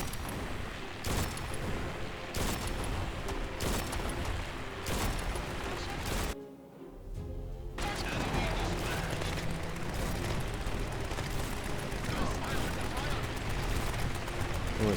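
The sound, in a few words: heavy gunfire and explosions in video game Grit & Valor 1949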